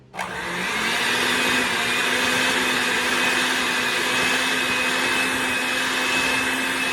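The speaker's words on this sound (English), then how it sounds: "we're gonna beat this up till it gets creamy" An electric mixer beats cream cheese for a chocolate cherry dessert, switching on abruptly and holding a loud, steady whirring drone throughout, with no talk.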